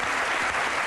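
Brief burst of studio audience applause on a French television show, loud and dense clapping throughout the short moment.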